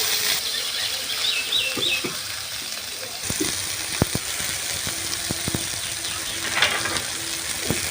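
Tilapia fish pieces, salted, rinsed and squeezed dry, sizzle in hot oil with a steady broadband crackle and scattered sharp pops and spits throughout, close and continuous.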